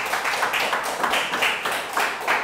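A church congregation at a Sunday worship service gives sustained applause, with dense, even clapping that pulses in slight waves from start to finish.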